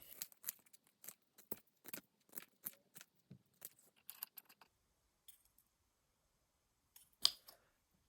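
Scissors snip repeatedly through material, a quick irregular series of close, crisp cuts that thins out into quiet, followed by one last sharper snip.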